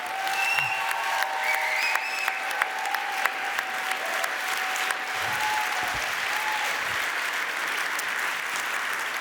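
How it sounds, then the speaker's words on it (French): A cabaret audience applauds warmly, a continuous wash of clapping at moderate distance lasting the whole stretch, with faint whistles and crowd murmur underneath. "une bonne main d'applaudissements"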